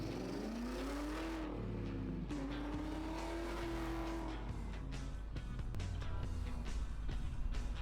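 An old BMW 5 Series 540i with a manual gearbox drives along a street, its engine note rising and falling through gear changes, loud and continuous with brief tire squeal and no talking.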